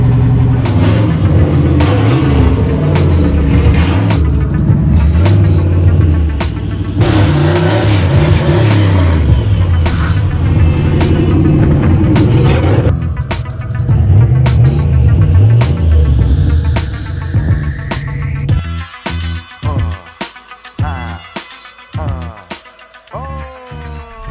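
A turbocharged Ford Foxbody Mustang V8 runs loud and close, revving repeatedly in rough, uneven bursts, then drops to a choppy, lumpy idle with sharp stabs of throttle near the end.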